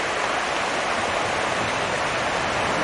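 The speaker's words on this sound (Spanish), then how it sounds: "Una chulada de arroyo." A natural stream flows nearby, a loud, dense, unbroken rushing wash of water with no voices over it.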